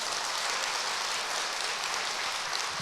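A church audience at a Korean festival gathering claps for their pastor in a dense, continuous wash of applause, steady and fairly loud throughout.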